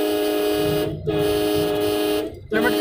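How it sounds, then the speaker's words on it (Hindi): A car horn sounds in two long, steady honks separated by a short pause, loud and close. "हॉर्न दो"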